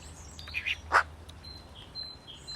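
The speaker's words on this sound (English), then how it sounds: "The legendarily intelligent magpie." A magpie gives a few short chirping calls close by, two brief bright notes early on followed by fainter scattered chirps, over a quiet outdoor background with a low hum.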